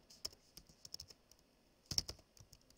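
Fingers typing on a computer keyboard, a quick irregular run of light clicks close up, with a denser cluster of keystrokes near the end.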